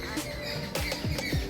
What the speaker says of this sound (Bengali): পাখির কুঞ্জন শুনতে পাচ্ছেন